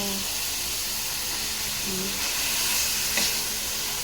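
Shrimp paste (alamang) sizzles steadily in a hot pan, a continuous bright hiss with a few stirring scrapes, close and fairly loud, while a voice speaks briefly over it.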